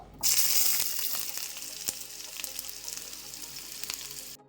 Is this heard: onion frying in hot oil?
yes